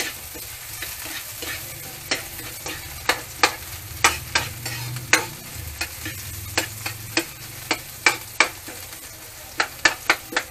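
Garlic sautéing in a hot pan while being stirred, a steady close sizzle punctuated by frequent sharp scraping and tapping strokes of the spatula at an irregular pace, with no talking.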